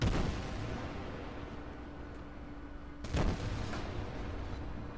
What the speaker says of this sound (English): It's not going to stop me from pumping HE shells at him as fast as the guns will turn and shoot.